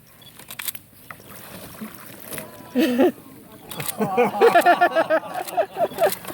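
Splashing and sloshing water as a sea kayak performs a candle roll, with bursts of churning around the middle and end and a voice breaking in.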